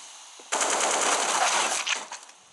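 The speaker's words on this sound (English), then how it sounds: "Whoa! It's a shotgun." A shotgun fires during a competitive Counter-Strike match, one sudden loud blast at close range that rolls on into a dense, crackling burst and tails off after about two seconds, without commentary.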